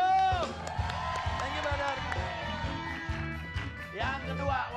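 A studio audience at an Indonesian music game show cheers, whoops and claps for the host Hilbram, a steady crowd roar with bright shouts over a thumping musical beat throughout.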